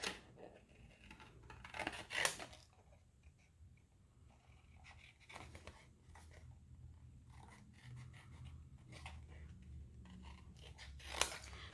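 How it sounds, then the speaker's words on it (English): Scissors cut out a paper image for a card, close and quiet, in short irregular snips separated by pauses and light rustling of the paper. "So just carefully go around and cut your image out."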